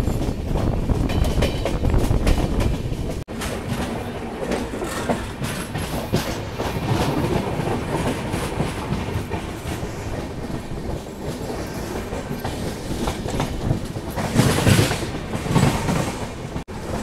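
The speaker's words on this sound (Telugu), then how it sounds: "మనం చూసుకోవచ్చు ట్రైన్ అయితే వస్తుంది" The Visakhapatnam–LTT Express rolls past on the rails, a steady loud rumble with rhythmic clattering and a brief swell of squeal near the end.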